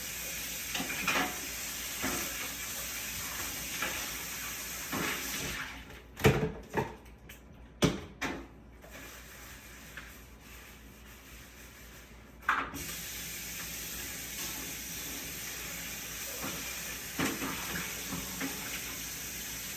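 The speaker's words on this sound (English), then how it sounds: "We are washing this because clearly I can't reach the other bowls in my kitchen" A bowl being washed under a running kitchen tap, with a steady broad rush of water throughout, broken midway by several sharp clinks and knocks of the bowl being handled.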